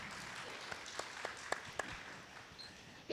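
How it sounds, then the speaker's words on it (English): Quiet applause from an audience at an interview event, a soft bed of scattered clapping with a few sharper individual claps standing out, heard at a distance and fading toward the end. "Big round of applause for Raju"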